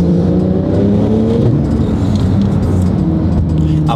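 Porsche 911 Turbo S with a 1300 hp engine accelerating, a loud, close, continuous engine roar with gearbox whine rising in pitch, heard from inside the car.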